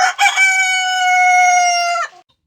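A rooster crows once, loud and close, in a single sustained cock-a-doodle-doo that holds a steady pitch for about two seconds before breaking off abruptly.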